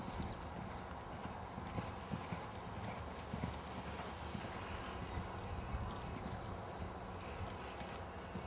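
Horse cantering during a riding clinic, hooves clip-clopping in a steady rolling rhythm, moderately close but soft, with faint background noise and no clear talk.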